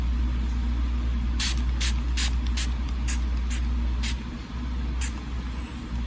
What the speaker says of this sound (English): spray this with its shitty little nozzle